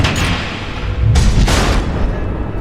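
Missile explosions in Batman: The Enemy Within land as two heavy, close booms over a continuous low rumble, loud and dense, with no talk.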